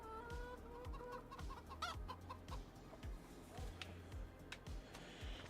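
Chickens cluck in a farm video game, with repeated soft clucks and short calls over a steady low rhythmic background, faint and continuous.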